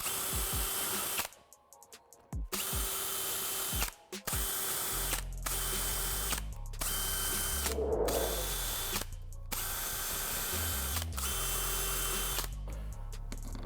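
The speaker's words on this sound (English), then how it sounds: "All these additional holes, you're going to drill out and then use the supplied hardware" A power drill runs in repeated bursts, whirring and revving with short pauses between each hole, drilling a 2015-2017 Mustang's front spoiler for a protection kit, loud and close with no talking.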